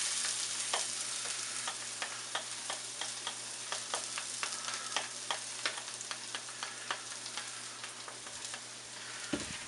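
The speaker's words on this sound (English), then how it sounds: "we put the garlic in the olive oil." Garlic frying in hot olive oil over high heat, a steady dense sizzle with crackling pops throughout, close and fairly loud with no talking.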